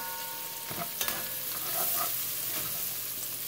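Chopped fresh garlic fries in melted butter in a pan over medium-high heat, a steady close sizzle with a few brief clinks and stirring scrapes, no one talking.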